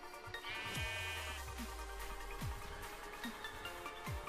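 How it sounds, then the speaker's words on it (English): Sheep bleat in Minecraft, a few short cries spread over a steady game background with no talking. "There's some more sheep."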